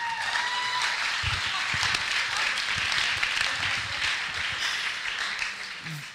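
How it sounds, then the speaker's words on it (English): A story slam audience applauds as a storyteller is introduced, steady clapping from a crowd filling the room for about six seconds before fading, with no voices on top. "so clap for him."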